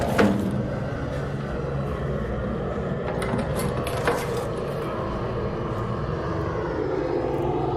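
A flying bombardier enemy in the video game ARC Raiders drones overhead as a steady engine-like hum, with a few sharp clinks and knocks near the start and middle.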